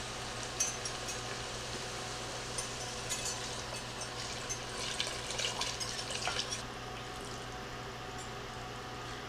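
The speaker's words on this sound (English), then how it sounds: "I just whisked it together, and I'm going to pour it into my mixture" Whisked bouillon water is poured into a pot of chili mac and cheese soup mixture, giving a steady splashing, trickling pour that swells in the middle and then settles.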